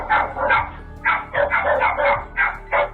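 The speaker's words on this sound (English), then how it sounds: "stray dogs that were following and barking at her" Stray dogs bark close and loud, a series of about eight sharp barks in uneven bursts, some coming in quick pairs, with little else around them.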